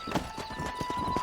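Hoofbeats of a horse ridden in Red Dead Redemption, a quick uneven clip-clop of several soft thuds over a steady tonal game hum, moderately loud and close, no talk.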